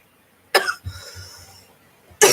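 A single sharp cough close to the mic, then a short pause and a second cough, with a muffled low thump between them.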